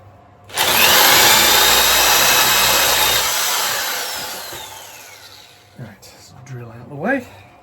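A power drill fitted with a 13mm paddle bit bores through a wooden board for a model railway layout. It whines loudly and steadily for a few seconds, then winds down and spins to a stop, and brief handling noises follow.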